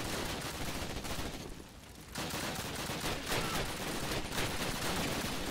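Dense, continuous gunfire in Call of Duty: United Offensive, rounds fired through a wall in a loud, unbroken burst with a brief dip in intensity partway through.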